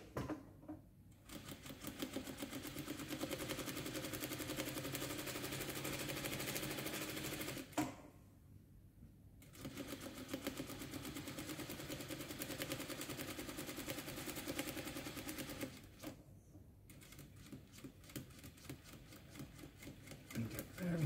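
Sewing machine running steadily while stitching a jacket facing around a curve, a continuous close mechanical whir that stops briefly twice before resuming.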